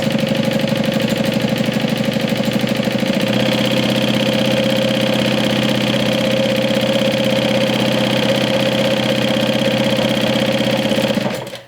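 A sewing machine stitches along the ends of a vinyl drawstring, running continuously in one loud, steady whirring hum that cuts off abruptly at the end.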